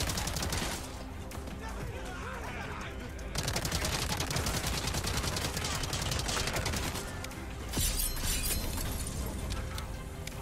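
Rapid bursts of gunfire from Resident Evil 4 Mercenaries, dense and continuous across the clip, with shots overlapping into a near-constant barrage of game combat noise.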